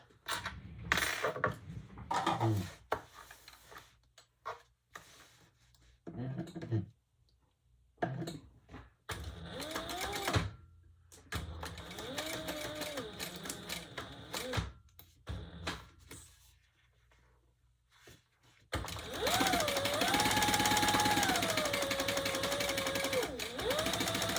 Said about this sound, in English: we're going to sew that together with the full seam allowance